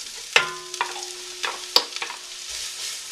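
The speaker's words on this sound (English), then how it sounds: "let's put another glug of olive oil in here, about 2 tablespoons worth, and add the chopped onion" Chopped onion dropped into about two tablespoons of hot olive oil in a pan, giving soft sizzling with a few sharp clinks and scraping stirs, fairly quiet and with no talking.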